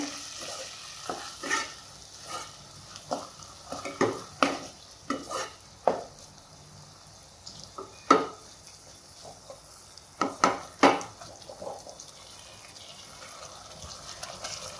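Egg manchurian sizzles in a pan while a spoon scrapes and stirs it in an irregular series of close scraping strokes over a steady low frying hiss, with no talking.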